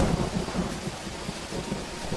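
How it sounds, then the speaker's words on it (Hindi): A thunderstorm pours heavy rain amid wind, a dense, steady roar of rainfall with low rumbling thunder beneath it, close and continuous without any voices. "इतनी आंधी पानी तूफान में?"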